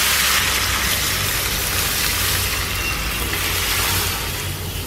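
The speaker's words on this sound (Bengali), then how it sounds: "এখন আমি পেঁপে ডাল এর মধ্যে দিয়ে দিচ্ছি।" Papaya dal hits a sizzling onion-garlic tempering, giving a loud, steady hissing crackle that fills the whole moment close up, with no voices.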